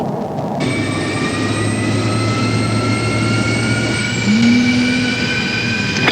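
General Electric engine in an F-16 jet spooling up via its jet fuel starter, a rising whine with steady turbine tones over a roaring rumble, loud and close, with a brief extra tone near the end and no speech.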